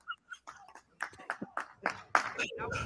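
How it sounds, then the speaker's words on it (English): Sparse clapping from a few people on a street at night outside, applauding police officers: irregular, uneven hand claps that grow a little louder toward the end, mixed with scattered voices. "Clap for the police."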